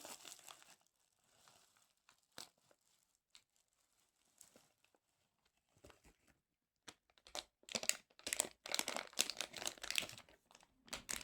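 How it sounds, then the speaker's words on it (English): A plastic bag from a wristwatch's packaging crinkles and rustles in sporadic handling, quiet and sparse at first, then a dense burst of loud, close crackling toward the end. "Okay, so we've got a plastic bag."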